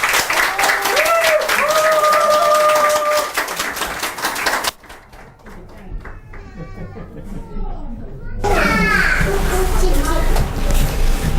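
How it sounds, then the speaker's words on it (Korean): A church congregation at a revival gathering applauds as a pastor comes forward, with loud clapping mixed with shouts and cheers, broken by a brief quieter stretch before the applause swells again. "오늘 훈가로 목사님 나오실 때 뜨거운 박수 부탁드립니다."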